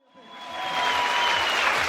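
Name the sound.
audience applause in auditorium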